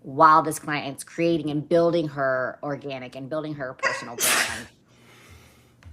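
A single loud, sharp sneeze bursts out near the end of a stretch of close, continuous speech, followed by a brief quiet tail.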